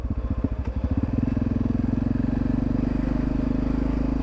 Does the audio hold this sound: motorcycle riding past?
yes